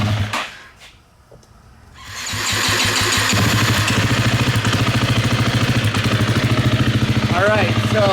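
A Honda CRF450RX dirt bike engine fires up after a brief quiet moment, then settles into a loud, steady, throbbing idle that runs close by to the end while the idle is adjusted.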